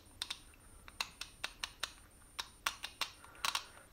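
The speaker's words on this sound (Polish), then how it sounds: "Zresztą posłuchajcie samej grzechotki." A worn, damaged ratchet wrench from a car mechanic's tool set clicks and skips in sharp, irregular ticks, heard up close and alone in a quiet room.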